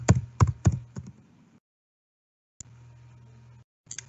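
Keystrokes on a computer keyboard while entering a library search term, a quick burst of several close clicks, a pause, then a softer run of taps over a steady low hum.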